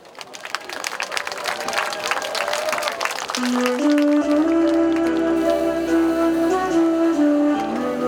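Outdoor festival audience applauding at a live concert at the Kim Sat-gat cultural festival in Yeongwol, clapping for about four seconds before song music starts and covers it.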